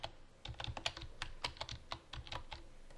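Quick bursts of typing on a computer keyboard, close and crisp, with irregular clusters of key clicks separated by short pauses.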